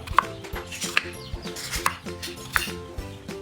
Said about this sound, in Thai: จากนั้นหั่นแตงกวา ขนาดตามชอบ